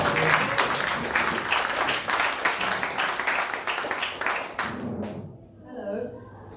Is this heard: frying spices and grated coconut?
no